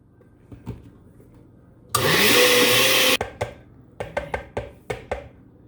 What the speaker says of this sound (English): Okay, so we're going to blend this up.